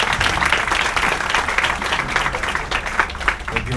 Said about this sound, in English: I think we can do a bigger round of applause than this